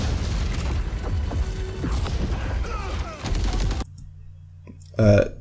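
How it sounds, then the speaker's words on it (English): An MG42 machine gun firing in a Call of Duty WWII trailer, dense booming gunfire with mechanical clatter and explosions under a voice, then a quieter stretch and a short loud burst. "Here we have a German on a machine gun, MG42, I think."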